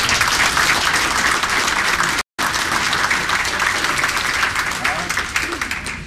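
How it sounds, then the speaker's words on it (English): Sustained, dense applause from the audience at a Washington County, Maryland employee recognition breakfast, honoring staff with 15 years of county service, loud and steady throughout with a brief dropout midway. "Mark Stransky, Ernie Reese, Terry Taylor, a round of applause for those with 15 years."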